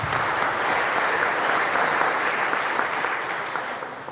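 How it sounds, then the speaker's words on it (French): A congregation at a Sunday Mass claps for children making their first communion, a broad sustained round of applause that stays strong and fades slightly toward the end. "Applaudissez pour eux."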